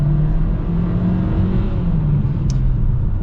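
A 2022 Hyundai Kona N Line small SUV accelerating, a steady loud engine rumble with a rising drone throughout, heard from inside the cabin with a brief high chirp near the end.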